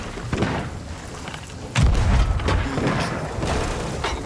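A keg explosion in the video game Sea of Thieves: a sudden heavy boom and thud about midway, with rumbling debris trailing off amid mechanical in-game noise.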